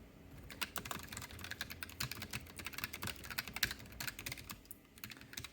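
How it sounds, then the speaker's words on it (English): Rapid, continuous clacking of keys on a Keychron K3 mechanical keyboard with brown switches, typed briskly and unevenly at close range with no voices. "It's a little bit, typing a little bit aggressively."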